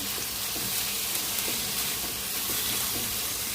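Ingredients for coconut rice sauté in ghee over low heat, giving a dense, even sizzle with faint spatula scrapes every second or so, close up and continuous, no voices.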